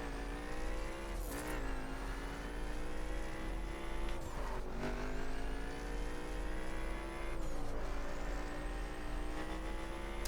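Off-road driving in The Crew: a steady, loud car engine drones throughout, with gear-change dips around two, four and seven seconds followed by rising revs, plus occasional tire scrubbing on loose ground.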